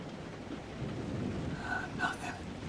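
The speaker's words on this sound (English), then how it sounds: "Nothing but the rain." Rain falls steadily on an alien planet in The Alters, a soft continuous hiss with a low rumble of thunder and a few brighter tones late on.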